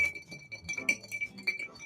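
Ice clinks and rattles against a mixing glass as a Tuxedo cocktail is stirred, a steady run of bright, close clinking taps without speech.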